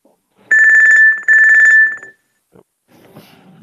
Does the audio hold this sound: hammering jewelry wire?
no